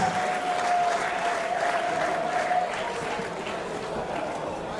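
A crowd at a SuperFight combat event claps for the winning fighter, a continuous even roar of applause that stays steady and fairly distant for the whole stretch.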